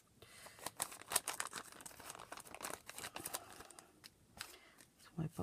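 Paper being cut with scissors while clearing up garbage, crisp snipping and crinkling crunches in a quick irregular run, close and fairly quiet.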